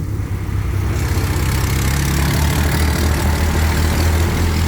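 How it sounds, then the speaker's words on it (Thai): A tractor engine shoves a car from behind, giving a loud, steady low rumble that drones on without a break for the whole stretch. "แล้วรถไถดันตูดเอา"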